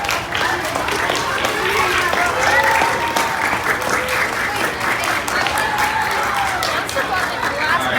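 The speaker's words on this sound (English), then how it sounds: "thank you guys for the applause" A presentation audience at a NASA SLI model rocketry event claps steadily and loudly for several seconds, a dense continuous wash of hands with some crowd murmur underneath.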